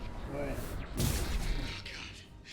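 Gunfire and booming impacts during combat in the video game Mass Effect 2, a burst of muffled blasts with a louder hit in the middle, with a voice speaking over it.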